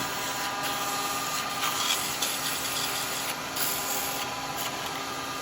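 Sandpaper rubs a small end-grain wooden bowl spinning on a lathe, a steady close hiss with slight swells and a faint motor hum, no talk.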